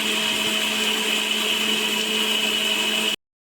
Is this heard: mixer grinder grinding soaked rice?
yes